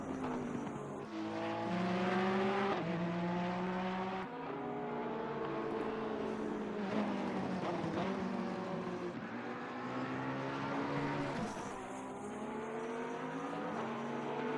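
GT3 race cars at the Bathurst circuit in the racing game Assetto Corsa Competizione, engines droning and revving through gear changes as cars pass, with steady, layered engine tones that rise and dip over several shifts.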